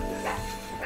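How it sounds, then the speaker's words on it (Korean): Dogs in the Animal Crossing video game give a quick burst of small yips and barks, close and moderately loud, within a brief game-audio moment. "강아지들이 또 왜 짖지?"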